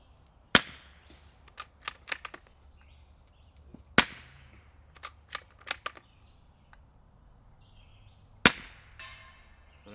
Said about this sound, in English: I'd say this might be one of the better rifle 22 suppressors I've shot.